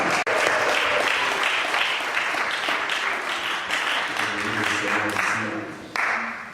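A church congregation claps and cheers, a loud full burst of applause with voices mixed in. It eases a little partway through, then swells again near the end.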